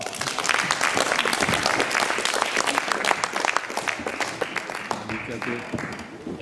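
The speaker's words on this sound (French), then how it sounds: "Alors, on peut l'applaudir bien fort." A live show audience bursts into dense, sustained applause for a volunteer called up on stage, the loud clapping filling the whole stretch and easing slightly toward the end.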